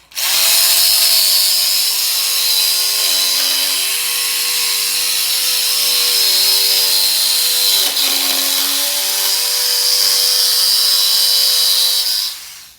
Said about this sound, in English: with our jigsaw, we were able to cut a fantastic arc in this piece of sheet metal